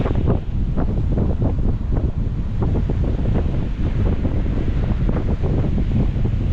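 Rough surf crashes and churns continuously at Lakes Entrance Main Beach, loud and close, with gusting wind blasting the microphone over the rolling waves.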